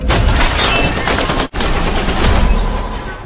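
Warning gunfire from the KLA armed group in a film comes as a dense burst of rapid shots, a brief sharp gap, then more sustained volleys, loud and close.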